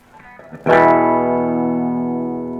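An electric guitar on its humbucker pickup runs through a small 1989 Ibanez MA10 amp, already overdriving: after a few faint picked notes, one loud distorted chord is struck and rings out, slowly fading.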